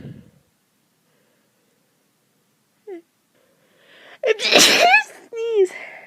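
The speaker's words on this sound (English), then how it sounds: "Sneeze again." Someone with a cold lets out a brief, small sneeze sound, then a loud, close, explosive sneeze after near silence, followed by a strained whimpering voice.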